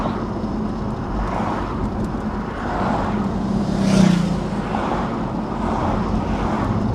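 A BMW E46 M3 on the move, its engine a steady low drone with road noise that swells briefly midway before settling again, continuous and fairly loud, with no talking.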